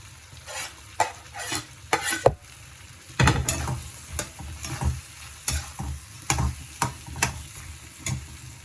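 Ridge gourd pieces stir-fried in a pan with spices, a steady sizzle broken by repeated scraping strokes of a spatula in an irregular rhythm, close and fairly loud throughout.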